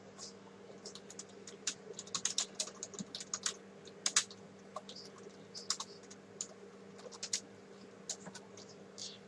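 Code being typed on a computer keyboard, with quick, irregular bursts of key clicks that are close but fairly quiet over a steady low hum.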